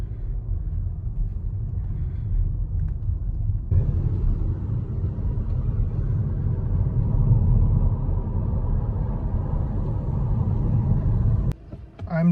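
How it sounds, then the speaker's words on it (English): A car rolls slowly through the narrow streets of Tenby, a picturesque Victorian town in Wales, its low engine rumble steady and close, swelling slightly partway through before a short knock near the end. "I'm driving through the most narrow of streets in Tenby"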